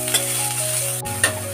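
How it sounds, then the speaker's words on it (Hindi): Capsicum frying in a pan for a veg spring roll filling gives a steady close sizzle, with a couple of brief stirring scrapes and no talking. "शिमला मिर्च, इसको लगभग 2 मिनट तक फ्राई कर लेंगे"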